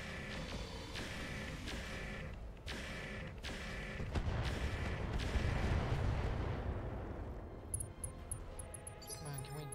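Mech weapons fire in RogueTech, a series of loud sharp shots and booming blasts in quick succession, swelling into a rumbling barrage before fading into mechanical clatter.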